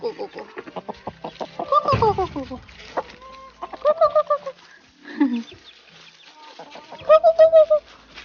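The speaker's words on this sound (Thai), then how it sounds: "ไก่แลนมาหมด" Chickens cluck nearby in a garden, giving repeated short rhythmic clucks and a few drawn-out calls over the span, with a brief scuffle of movement in the middle.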